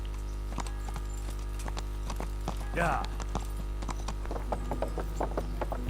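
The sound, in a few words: horse hooves descending stairs in video game Kingdom Come: Deliverance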